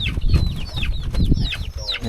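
Chickens cluck and chatter in a coop at a hidden mountain village, with several close birds making short, overlapping calls in a busy, irregular rhythm.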